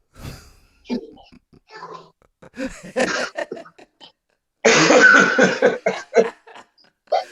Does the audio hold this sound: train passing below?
no